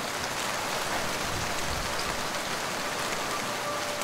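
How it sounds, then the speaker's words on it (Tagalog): Heavy rain pours down at night in a dense, steady roar of drops hitting surfaces, loud and unbroken throughout with no voices. "Kasunod na noon ng malakas na pag-ulan ng gabing ito."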